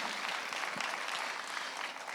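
A church congregation gives a strong round of applause, a steady wash of many hands clapping at moderate distance, continuous and even with no break.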